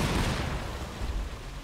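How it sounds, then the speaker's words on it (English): Gunfire in Wolfenstein: The New Order, a dense, steady roar of shots running the whole moment with no clear gaps, loud and close, like sustained automatic fire. "Yes, cowboy shooting."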